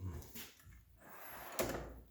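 A drawer on a US General 56-inch Harbor Freight tool box slides and clunks, with a sharp close near the end amid faint workshop rattling.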